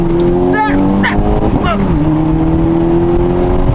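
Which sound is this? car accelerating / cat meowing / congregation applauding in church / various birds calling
car accelerating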